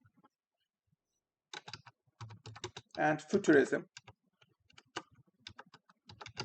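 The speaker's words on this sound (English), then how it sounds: "So I'm typing up my ideas." Computer keyboard typing comes in quick, uneven bursts of crisp clicks and taps, close and clear. A brief spoken phrase is heard in between.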